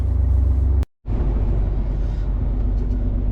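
A truck heading out toward its first loading point rumbles with a loud, steady low engine drone, briefly cut off by a short silent gap before resuming.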